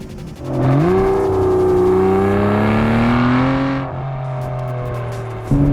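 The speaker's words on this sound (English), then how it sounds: "It sounds incredible being a V12, it's got heaps of torque" A loud Aston Martin V12 Vantage S engine revs up smoothly and holds a high, rising whine, then drops to a lower steady drone before a brief blip at the end.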